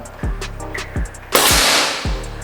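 A sharp, loud pneumatic crack of a single shot from a stainless PCP air rifle charged to 2000 psi rings out, with quieter clicks and thumps before it.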